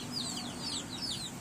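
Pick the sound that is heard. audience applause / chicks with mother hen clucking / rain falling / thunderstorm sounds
chicks with mother hen clucking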